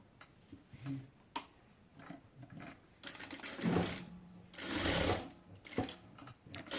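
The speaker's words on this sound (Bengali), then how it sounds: "তো আমি হচ্ছে প্রথমে এরকম করে হচ্ছে সেলাই করে নেব।" A sewing machine runs in several short bursts while stitching a folded hem on a salwar leg cuff, its needle ticking out quick rapid stitches up close with brief pauses between runs.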